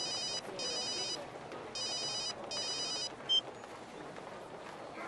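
A telephone rings in repeated bright electronic bursts with short gaps between them, fairly quiet in a still room, followed by a brief click.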